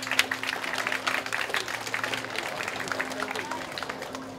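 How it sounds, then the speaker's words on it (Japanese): A hall full of spectators applauds a defeated kickboxer after a 34 kg title bout at a RESISTANCE-15 event: dense, steady clapping for several seconds, with a faint hum and murmuring voices underneath. "大井小天太選手にも温かな拍手をお願いいたします。"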